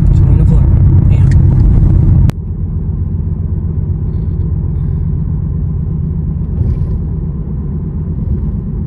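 Steady low road rumble heard from inside a car near a Walmart early in the morning, with a brighter burst at the start that cuts off sharply, then a continuous muffled drone of traffic.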